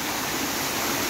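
A forest waterfall in hill country roars as a dense, steady rush of falling water, loud and close with no break.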